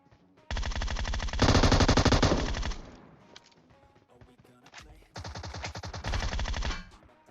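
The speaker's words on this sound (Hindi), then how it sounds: "वो बंदा अभी तक टोमी गन चला रहा है भाई" Tommy gun fire in a first-person shooter game: two long, loud, rapid automatic bursts with a short quiet gap between them, close and dominating the mix.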